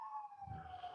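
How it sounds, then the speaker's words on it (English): A siren wails faintly and steadily in the distance, with a low rumble of traffic beneath it. "The sirens are right on cue."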